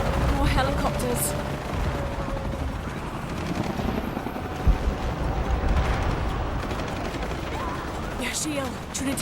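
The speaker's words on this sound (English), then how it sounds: "More helicopters." Shadow of the Tomb Raider gameplay: helicopter rotor drone mixed with bursts of automatic gunfire and mechanical clatter, set at moderate loudness with a swelling whoosh midway.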